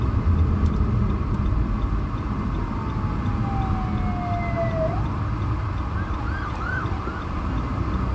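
An ambulance siren wails from a moving car amid steady road rumble, its pitch sweeping down and then warbling faintly as it draws past.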